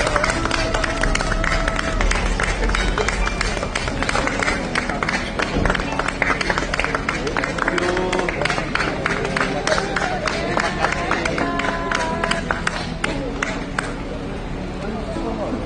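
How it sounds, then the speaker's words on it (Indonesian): Hotel supporters applaud Indonesia's national team players on their return from China, a dense, continuous wash of clapping and crowd noise that stays loud and busy throughout. "Beberapa supporter timnas yang ada di hotel tetap memberikan aplaus dan semangat untuk pemain timnas"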